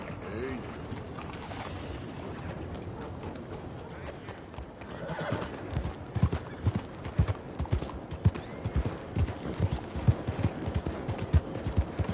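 Horse hooves clip-clop in a quickening rhythm, joined by a horse's neighing and whinnying, close and busy, with some background commotion.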